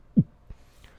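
A vocal imitation of a heartbeat: a single low, soft thump followed by a fainter second beat, made with the voice in a quiet room.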